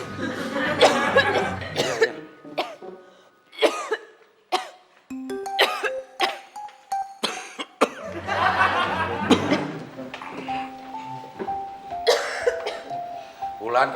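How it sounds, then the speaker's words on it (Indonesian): Repeated coughing fits come in bursts from people indoors at home, mixed with chuckles and throat clearing, close and loud, with speech between the coughs. "Nggak apa-apa kok batuk."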